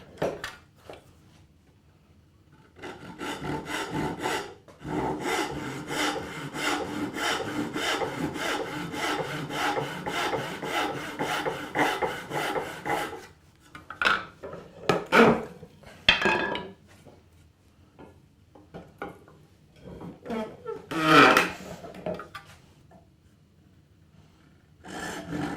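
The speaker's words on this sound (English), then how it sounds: "Whatever the distance under the back is of that dovetail saw, that's how deep I'm cutting that" Dovetail saw cutting a kerf in wood while assembling a perch stool: steady back-and-forth rasping strokes, a long continuous run of sawing followed by a few shorter bursts and pauses, close and fairly loud with no talk.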